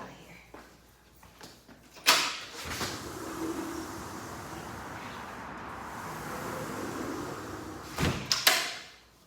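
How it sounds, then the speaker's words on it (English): A door swings open indoors, with a sharp knock-and-thud of the latch and frame early on and another pair of clunks near the end, separated by a steady room hum. "so let me open this door"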